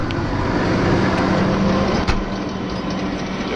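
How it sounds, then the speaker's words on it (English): The engine of a big baler runs loud and close with a steady, dense drone, and a brief bump appears midway as it is revved. "when I rev it up, you'll see the baler sway back and forth"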